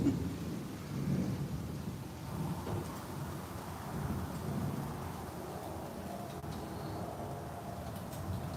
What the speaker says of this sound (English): I don't know if you guys can hear that thunder or not, but it is no joke.